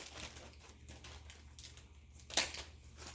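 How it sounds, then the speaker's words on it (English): Plastic bags crinkle faintly during the unboxing of a thredUP rescue box of jewelry, with soft rustles through the clip and one sharper, louder crackle near the middle. "There are so many plastic bags in here."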